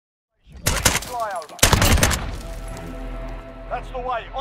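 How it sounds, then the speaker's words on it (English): AS Val rifle fired in a multiplayer shooter video game, with two rapid bursts of suppressed automatic shots close up and a voice talking over them. "one gameplay clip of me getting a kill with the AS Val"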